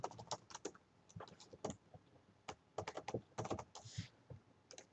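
Close, rapid and irregular clicking of a computer keyboard during a C++ programming lesson, with bursts of keystrokes and short pauses and no other sound.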